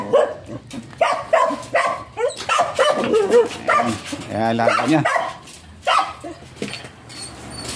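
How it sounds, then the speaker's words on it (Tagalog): A dog barks and yips in short bursts close by, with a whimpering whine in the middle, while a person talks over it. "kasi may aso doon."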